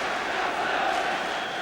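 A football crowd at a Chelsea match murmurs and roars approvingly in a broad, steady swell, distant and continuous.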